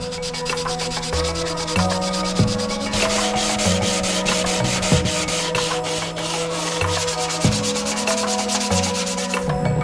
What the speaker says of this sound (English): I'm just gonna hit the sandpaper on this fiberglass here